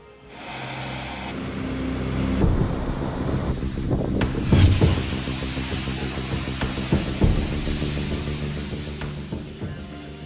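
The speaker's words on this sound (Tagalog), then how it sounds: "Malakas pa rin ang hangin pero hindi na inuulan ang Batanes ngayong umaga sa kalagitnaan ng bagyong Betty" Strong typhoon wind roars across Batanes during Typhoon Betty, a loud, continuous gusting rumble with buffeting surges and scattered thumps, with no talking.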